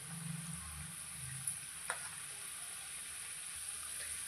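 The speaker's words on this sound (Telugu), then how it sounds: "అందుకని మీడియం ఫ్లేమ్లో పెట్టుకొని మాత్రమే ఇవి వేయించుకోవాలి." Jackfruit fritters fry in oil on a medium flame with a faint, steady sizzle and a couple of small ticks, quiet and close.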